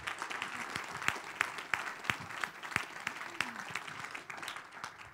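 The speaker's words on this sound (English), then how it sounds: "So let's give Bonfils-Stanton a round of applause for their support." A university audience at a Silkroad Ensemble talk applauds a sponsor, steady moderate clapping with a few sharp individual claps standing out near the front, fading slightly toward the end.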